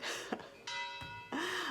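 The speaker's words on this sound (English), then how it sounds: "The bells are ringing." Church bells ring in a small Italian town, with sustained tonal strikes that swell and decay in overlapping waves, fairly loud and close, with no talk over them.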